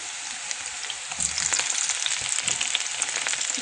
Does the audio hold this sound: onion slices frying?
yes